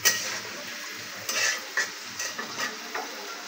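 Meat frying in oil in a pot, a soft sizzle broken by several scraping stirs of a utensil against the pot, close and fairly quiet.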